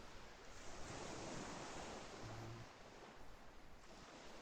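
Ocean waves wash steadily during a video game boat ride across the Ocean of Tears, a continuous, fairly close surf roar mixed with wind, heard alone.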